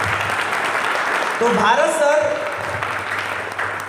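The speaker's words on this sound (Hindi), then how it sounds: "तो आइए जोरदार ताली स्वागत करते हैं भारत सर का।" An audience applauds to welcome a speaker, a steady wash of clapping heard under a voice speaking over it.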